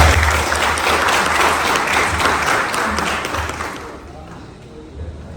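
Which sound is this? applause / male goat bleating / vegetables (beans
applause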